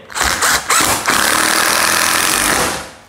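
A Mollar CIDR12 12-volt cordless impact driver hammers a screw in, a loud, continuous buzzing rattle after a couple of short starting bursts, close by and alone.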